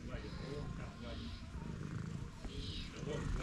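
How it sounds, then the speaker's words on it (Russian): A local cat at a farm glamping site in Leningrad Oblast purrs softly and steadily close by, with people talking over it throughout. "Это котик."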